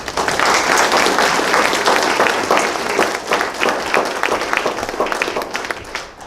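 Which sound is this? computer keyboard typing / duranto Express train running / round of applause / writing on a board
round of applause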